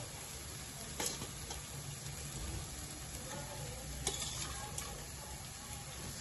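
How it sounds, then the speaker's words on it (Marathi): Chickpeas being stirred into frying masala for chole, a soft continuous sizzle with a few sharp scraping clinks of a spoon against the pan, quiet and close with no talking. "आता आपण याच्यात छोले घालूया"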